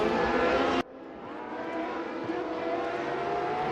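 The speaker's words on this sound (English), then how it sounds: "Sounded like the engine pitch changed" Race car engines in a sim racing game drone with a continuous high whine, loud at first and then dropping abruptly to a quieter, steady hum that carries on alone.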